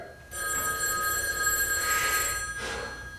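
A telephone bell rings indoors in a continuous metallic trill that swells briefly, then fades into a second short burst, heard alone without voices.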